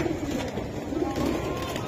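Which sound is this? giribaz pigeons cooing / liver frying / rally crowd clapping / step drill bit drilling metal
giribaz pigeons cooing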